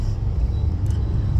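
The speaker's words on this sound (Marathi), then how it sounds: "ट्रॅफिक खूप आहे कारण ऑफिस सुटलेलं आहे" Heavy rush-hour road traffic in Mumbai, a steady low engine rumble of cars and other vehicles passing close by, continuous and fairly loud with no clear individual pass-bys.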